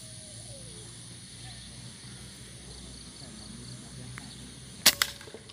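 A PCP Predator air rifle with a duralumin tank and .38 OD shroud fires a single sharp shot near the end during an accuracy test, a brief loud crack with a short follow-up sound, over a quiet outdoor background.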